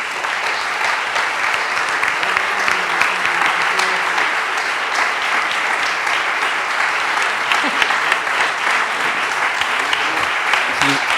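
Sustained applause from a conference audience honoring a whole team at Al Mossassa 2023, a dense steady roar of many hands that holds evenly from start to finish with no talking over it.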